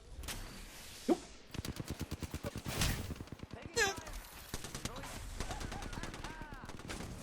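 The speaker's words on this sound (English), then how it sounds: "Enemies are shooting at me." Enemy gunfire in the battle royale game Apex Legends: rapid bursts of automatic shots in a steady rhythm, with single sharp cracks before and after, under a player's talk.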